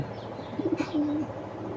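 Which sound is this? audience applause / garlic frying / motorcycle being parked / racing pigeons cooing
racing pigeons cooing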